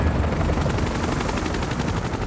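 Helicopter rotor blades in Final Fantasy 7 Rebirth make a steady, loud, dense chopping rumble that holds evenly throughout, with no voices.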